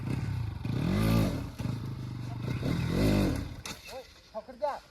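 An off-road motorcycle on a Sunday group ride revs hard in two rising and falling surges as it spins around, close and rough-edged, with people talking and shouting over it.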